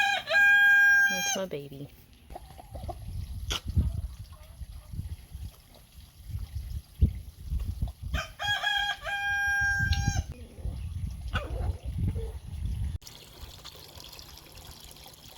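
Farmyard chickens with a rooster crowing loudly twice, long drawn-out calls separated by clucking, scratching and handling noises, while a person talks briefly nearby.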